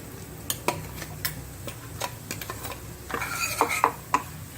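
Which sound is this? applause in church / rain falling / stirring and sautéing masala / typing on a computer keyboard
stirring and sautéing masala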